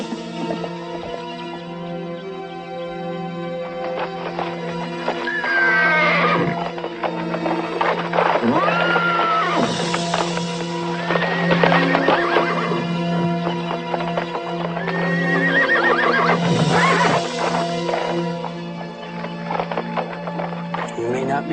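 A horse in an old-West setting whinnies several times with shrill, wavering calls over steady hoof clip-clop and background music; a voice talks quietly in places.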